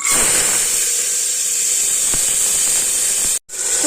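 Chickpeas hitting hot oil in a pressure cooker give a steady, loud hiss that runs almost without a break for several seconds. It drops out for a moment near the end, then picks up again.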